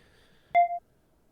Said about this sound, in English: phone keeps making a crazy beeping noise